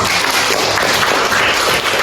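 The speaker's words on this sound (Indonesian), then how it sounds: "tepuk tangan dong" A classroom of students clapping together, a dense steady patter of applause close by that carries on evenly without talk.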